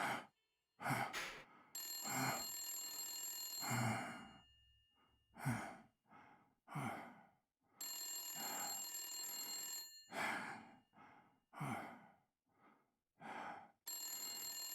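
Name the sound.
phone ringing in video game Blacksad: Under the Skin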